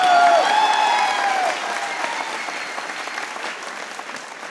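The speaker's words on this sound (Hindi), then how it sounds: "बजा सकते हो तालियां, बजा लो यार।" A studio audience at a cricket talk show on Pakistan versus India claps steadily, a voice briefly sounding at the start, the applause gradually thinning and fading.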